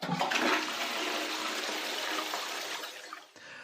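A toilet flushes in one loud, close rush of water that surges at the start, holds steady, then drains away and cuts off near the end, with no voices.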